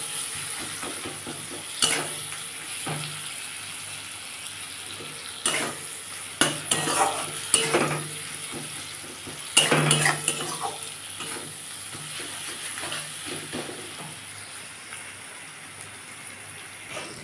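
Masala with salt for a Bhola fish curry fries in oil in a pan, a continuous soft sizzle broken by repeated close spatula scrapes and stirring knocks.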